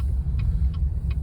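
A repaired 2018 Chevy Volt Gen 2 engine idles steadily with a low, even rumble and a faint ticking that repeats about every third of a second, heard up close.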